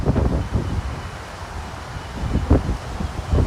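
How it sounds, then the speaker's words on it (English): Strong wind gusts of about 28 mph buffet the microphone outdoors in a lawn setting, a continuous low roaring rumble with sharper surges near the start and around two and a half seconds, heard alone. "now up to 28 mile per hour wind gusts"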